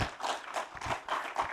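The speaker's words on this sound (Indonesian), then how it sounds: "yang paling keras tepuk tangan kawan-kawan PDIP" An audience claps and applauds during a presidential speech at the inauguration of an Indonesian cooperative, a quiet, distant patter of steady rhythmic clapping.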